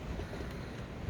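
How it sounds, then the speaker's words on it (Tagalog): Strong wind blowing during a heavy snowstorm, about 17 inches of snow, outside a house porch; a steady, loud, close rumbling gust buffeting the microphone throughout the brief moment, with no talking. "Lakas ng hangin, oh."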